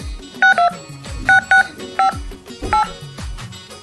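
Telephone keypad dialing tones beep six times in short, evenly loud pulses, some in quick pairs, over a faint background of music and knocks.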